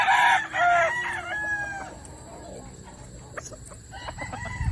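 Roosters crow at a gamefowl farm, a loud nearby crow opening the sequence, then fainter distant crowing and clucks over a quiet outdoor background.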